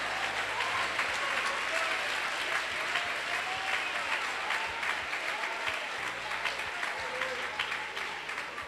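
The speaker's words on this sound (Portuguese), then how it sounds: "Desocupem as suas mãos, batam palmas e glorifiquem a Jesus." Church congregation clapping their hands in worship, a steady wash of many hands heard at moderate volume, with organ or keyboard chords and some voices mixed in underneath throughout.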